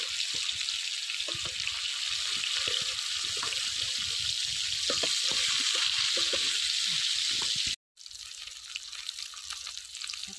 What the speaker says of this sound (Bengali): এবার মাছগুলো গরম তেলে মচমচে করে ভেজে নেব